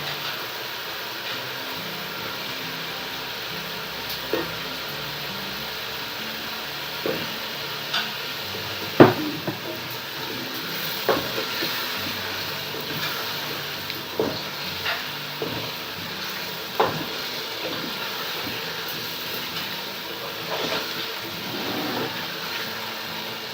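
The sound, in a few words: chicken frying and being stirred with spices in a pot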